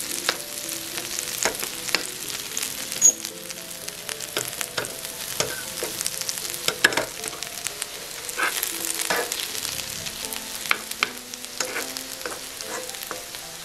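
Mashed sweet potato frying in a pan with a knob of butter, giving a steady soft sizzle with frequent light stirring and scraping taps throughout; no talking.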